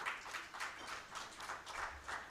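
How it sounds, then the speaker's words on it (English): Audience at a 2024 tech-enabled financial inclusion event clapping in faint, distant, rhythmic bursts, somewhat unified in pulse, with no talk over it. "You should keep clapping until he gets here"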